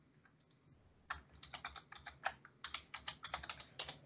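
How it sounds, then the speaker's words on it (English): Loud, close computer keyboard typing in fast irregular bursts of clacking keystrokes, with a brief pause before a steady run of keys. "Excuse the loud typing noises."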